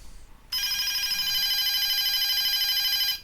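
A continuous electronic ringing tone from a DSE FP-200 telephone under repair starts abruptly and holds steady for about two and a half seconds before cutting off.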